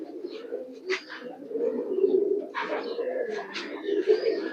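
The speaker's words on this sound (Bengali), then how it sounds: "এখানে বেশিরভাগই বাঘা কবুতর" Bagha pigeons coo in a loft, several birds producing low throaty rolling coos that overlap continuously, with wing flutters and soft rustling close by and no talking.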